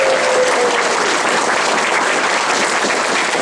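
Sustained, loud applause from a convention audience at the Minamicon 30 closing ceremony, a dense and steady wash of clapping that holds evenly throughout.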